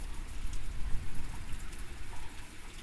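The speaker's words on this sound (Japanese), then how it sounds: "雨でこうなんか風で雨が動いてる" Heavy rain driven by wind during a typhoon hisses continuously and fairly loud, with a dense patter and gusty swells throughout.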